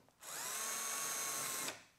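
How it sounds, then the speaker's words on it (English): A power drill pre-drills hinge screw holes in a frameless upper cabinet door, running in one steady whining burst of about a second and a half with a quick start and stop. "then we'll go ahead and pre-drill those holes."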